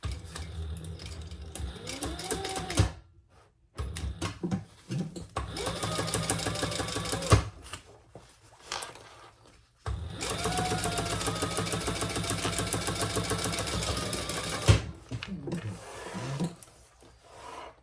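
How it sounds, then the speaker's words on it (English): A sewing machine top stitches a fabric sling bag, running in loud, steady bursts of rapid stitching separated by brief pauses, close up and alone. "Top stitch that."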